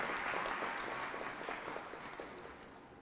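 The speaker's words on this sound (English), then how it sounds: "A round of applause once more." Audience applause at a leadership conference in Bolton, a broad, steady wash of many hands clapping that gradually fades toward the end, with no talk over it.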